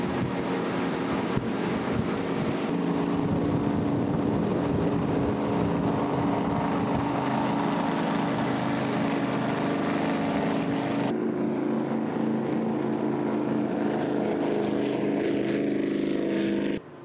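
A Donzi Marine 38 ZRC speedboat with twin staggered 860 engines runs steadily out on open water, a loud continuous engine drone mixed with rushing wind and water noise throughout.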